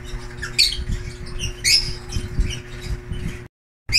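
A pet green split pale fallow bird gives sharp, high squawks in short bursts over steady background noise, close by, with a brief silent gap near the end.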